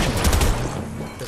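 A quick burst of gunfire in the video game Fortnite hits hard at the start, then fades into a rumbling, noisy tail.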